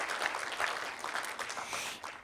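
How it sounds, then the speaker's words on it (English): Audience applause at a city council meeting, a dense steady patter of clapping from a crowd filling the whole moment without pause. "it deserves a round of applause"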